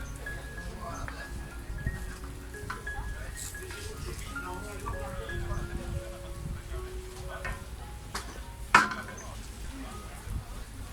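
Egg and shrimp sizzle gently in a pan for Thai fried rice, with a steady low crackle and a few utensil scrapes and one sharp clink, and someone talks over it throughout.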